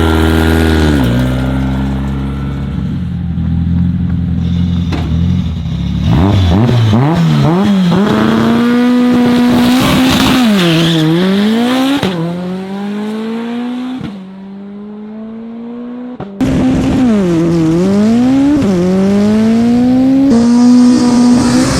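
A 1300 hp K20-powered Honda Civic screams close and loud, its engine sweeping up through repeated high-pitched revs, cutting off and climbing again between gear changes as it launches.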